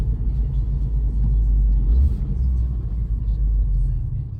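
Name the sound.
Renault Clio 4 RS Trophy 220hp engine downshifting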